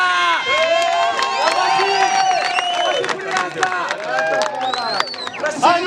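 An audience at an award presentation breaks into loud, sustained cheering, with high whoops and shouts rising over dense crowd noise for the whole stretch.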